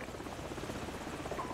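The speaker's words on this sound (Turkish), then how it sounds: "Helikopter, helikopter." Call of Duty Modern Warfare helicopter hovering close by, its rotor chopping in a rapid even pulse, loud and constant with no voices over it.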